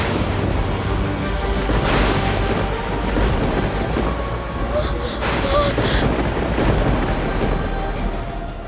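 Loud, sustained thunder rumbles and cracks in a dramatic television scene, with a rain-like hiss underneath and heavy booms throughout, mixed under a voice that is speaking.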